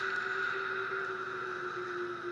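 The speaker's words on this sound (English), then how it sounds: "the engine thrust increase." Steady engine hum from an Airbus A330 in a flight simulator as thrust increases, a constant whine with a firm tonal drone and no talk, holding even throughout.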